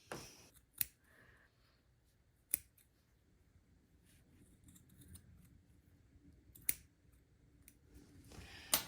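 Scissors snip through the knitted fabric floats of a sweater being steeked, giving a few sharp, isolated cuts spaced seconds apart against a quiet, close background.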